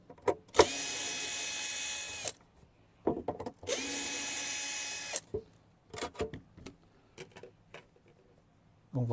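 A power drill unscrews the wooden entrance grille from a beehive, two sustained high whirring runs of about two seconds each, followed by short clicks, taps and handling knocks.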